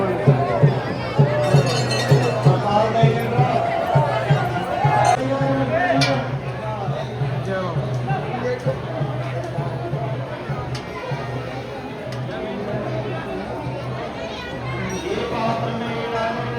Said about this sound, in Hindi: भीड़ बहुत आज भाई